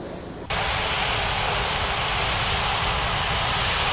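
An airliner's engines spool up to a steady, loud broadband roar for its takeoff run down runway 23 in an air traffic control game, the noise jumping in after a brief quieter start and holding constant.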